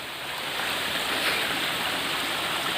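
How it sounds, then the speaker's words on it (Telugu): Steady, dense rush of falling water, a continuous broadband roar with no breaks and no voices. "నేను పైకి వెళ్తున్నాను చూడండి మన వాటర్ ఫాల్ కనిపిస్తుంది కదా"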